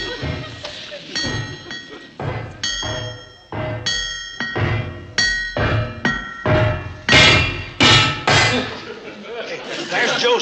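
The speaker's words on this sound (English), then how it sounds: "Yeah, you keep on with the hammer and I'll add some extras." Metal clanks and thuds ring out as a hammer strikes an old steam locomotive, a series of loud irregular blows mixed with other banging.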